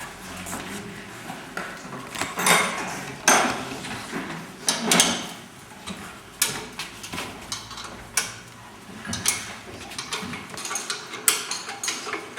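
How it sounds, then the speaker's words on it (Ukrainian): Metal tools unscrew a vehicle suspension part during a workshop training lesson, producing scattered light metallic clinks, taps and clanks at moderate distance, spread irregularly across a fairly quiet stretch with no talking. "Тепер відкручую підвісний чип."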